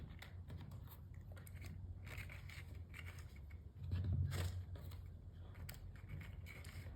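Quiet snipping of scissors trimming craft paper for a 3D hand fan, a few faint crisp cuts and paper crinkles, close but low in level.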